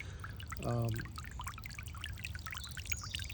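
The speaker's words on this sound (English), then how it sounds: "as the water is hitting the surface of the water, it's forcing oxygen inside, and it helps keep the water oxygenated" Water pours and trickles onto the surface of a whiskey barrel garden pond, a steady faint splashing outdoors with a brief louder gush near the start.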